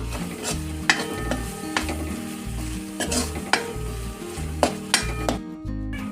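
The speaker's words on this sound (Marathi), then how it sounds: "दोन चमचे घरगुती मसाला चटणी मिनिटभर फ्राय करून घेऊया" Onion, tomato and homemade masala chutney fry in a pan under a continuous sizzle, broken by rhythmic scraping stirs and sharp metallic clinks of a spoon against the pan.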